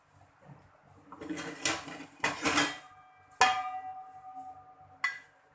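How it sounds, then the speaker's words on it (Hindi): A metal lid clanks onto a kadhai of stuffed tinda, giving several sharp metallic knocks and clatters close by, with a final light tap after a pause. "अब हम इसे ऊपर से कवर कर देंगे।"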